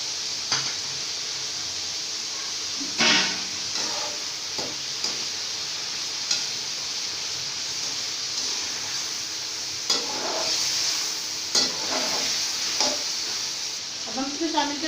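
Chicken fries in a pan with garlic paste for a chicken biryani, a steady close sizzle with repeated scraping stirs and occasional clinks of a utensil against the pot.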